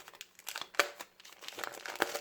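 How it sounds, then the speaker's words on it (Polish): Packaging of new brake pads crinkling and tearing open during a brake replacement on a Chrysler Town & Country, a close run of irregular crackly rustles with a couple of sharper crinkles. "Rozpakowujemy nowe klocki."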